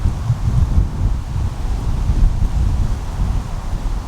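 Strong wind sweeps across a links golf course, buffeting the microphone with a loud, continuous, gusting rumble and no voices.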